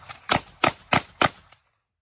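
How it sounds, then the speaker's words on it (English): Ithaca Model 37 20-gauge pump shotgun slam firing: four sharp, evenly spaced loud shots about a third of a second apart, followed by a fainter fifth report, then silence. "It's a little bit easier to slam fire the 20."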